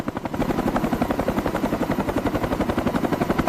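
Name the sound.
helicopter lifting off with a car load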